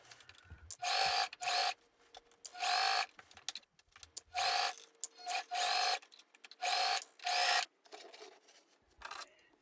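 Sewing machine stitching a tulle skirt onto a dress bodice, running in about six short, even bursts with brief pauses between them, loud and close with no talking.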